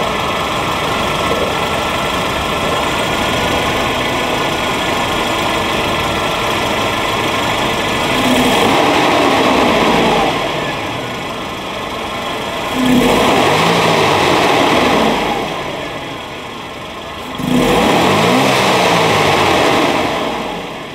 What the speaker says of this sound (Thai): มาฟังเสียงเครื่องยนต์กัน